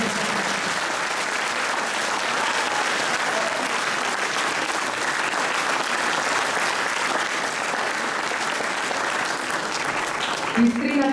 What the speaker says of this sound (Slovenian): pa seveda lahko zaploskate vsem skupaj